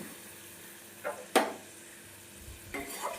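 Pabda fish being stirred into a mustard, poppy seed and green chili paste in a hot pan, with a few soft scraping and sizzling strokes over a quiet background.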